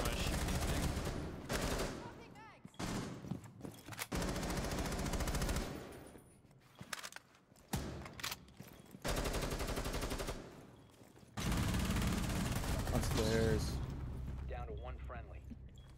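Automatic gunfire rattles in Rainbow Six Siege, bursts of rapid shots coming in long stretches broken by short gaps, loud and close, with voices talking over parts of it.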